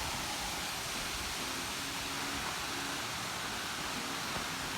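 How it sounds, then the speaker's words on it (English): Gostilje waterfall at Zlatibor, Serbia, gives a steady broadband rush of falling water, continuous and unbroken, heard from a moderate distance. "So that's the waterfall."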